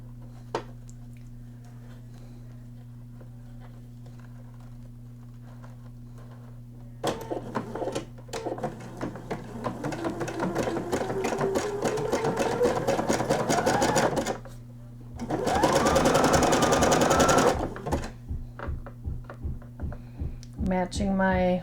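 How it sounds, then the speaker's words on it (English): A sewing machine stitches a 5/8 inch seam in a lace nightgown, its steady whirring stitching run coming in bursts over a constant low hum, with pauses where the fabric is adjusted. "And then we're going to stitch it with 5/8 inch seam allowance."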